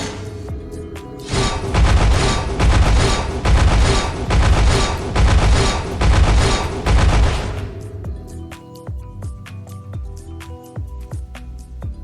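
The Crystal Division weapon in the video game Pixel Gun 3D fires a rapid, loud burst of shots for about six seconds, then falls to sparse, sharp single impacts and clicks.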